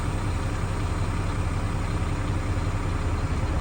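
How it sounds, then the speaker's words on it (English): A tractor-trailer truck's diesel engine idles steadily with a low, constant rumble as the driver eases off the manual clutch during a pre-trip parking brake test, with no voices. "Now I'm gonna slowly ease off the clutch."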